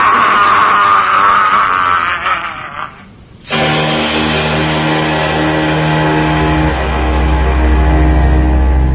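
Distorted, churning screams and roaring noise in a Spanish radio horror drama, loud and continuous, cutting out briefly before returning as a dense wall of sound with a low rumble underneath.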